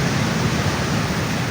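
Ocean surf on Nyang Nyang beach in Uluwatu, Bali, a steady broadband wash of breaking waves with no talk.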